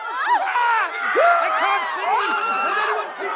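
A panicked crowd from The Wheel of Time fantasy series, many voices screaming and crying out in overlapping, swooping cries, loud and close throughout.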